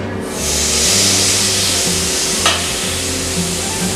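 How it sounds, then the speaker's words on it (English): Marinated lamb meat for bulgogi hitting a hot gas grill, a loud, steady, close sizzle and hiss that swells as the meat is laid down, with a small knock partway through and no speech. "I'm just gonna place all our nice marinated meat onto the grill."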